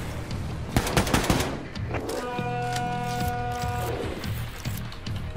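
Gunfire in the video game Wolfenstein 2: The New Colossus, a dense burst of rapid shots near the start followed by continued firing under a sustained tonal hum, fairly loud throughout.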